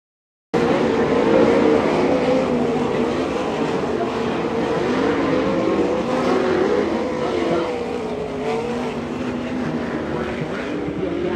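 410 sprint cars race on a dirt track during a heat, their engines roaring loudly and continuously with a rising and falling drone as the pack passes, a voice talking faintly underneath.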